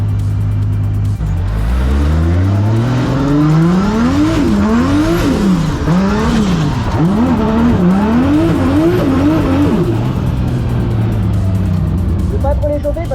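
A drift car on track during a D1NZ qualifying session at Mt Smart, its engine revving up and down loudly in repeated surges, with tire squeal, close and continuous.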